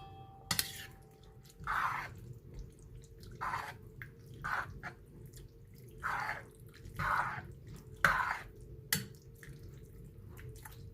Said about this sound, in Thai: เสียงเครื่องล้างจานนะคะ